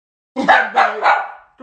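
A dog barks three times in quick succession, loud and close, each bark a short rough burst with a brief gap between them.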